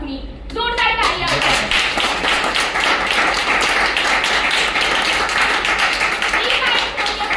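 Audience clapping loudly and steadily at a product presentation in a hotel hall, dense sustained applause after a brief moment of speech at the start.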